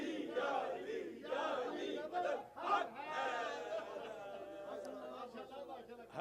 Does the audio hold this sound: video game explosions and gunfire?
no